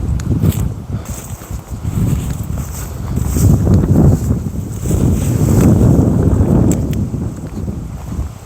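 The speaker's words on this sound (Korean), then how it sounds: "아, 저기는 바람 쎄다." Strong gusts of wind buffet a rocky seashore, a loud continuous roar rising and falling with heavy wind noise on the microphone throughout.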